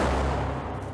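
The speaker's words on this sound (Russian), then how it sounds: "Shot, recoil." A T-14 Armata tank's main cannon firing a shot during testing, heard as a loud, dense booming blast that fills the whole second and decays slowly with rumbling reverberation.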